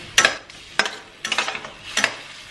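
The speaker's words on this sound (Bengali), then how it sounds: "একটু ভাজা ভাজা করে নেব, নুন দিচ্ছি, একটু হলুদ দিলাম, জিরের গুঁড়ো, একটুখানি জল, এবারে ভালো করে কষাতে হবে।" Spice masala with salt, turmeric, cumin powder and a splash of water stir-fried in a pan, four distinct bursts of spatula scraping and sizzling separated by short pauses, close up.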